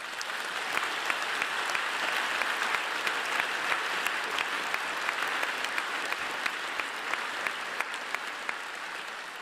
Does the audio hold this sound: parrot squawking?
no